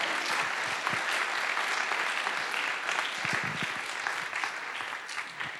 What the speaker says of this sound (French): Merci Caroline, on peut encore l'applaudir bien fort s'il vous plaît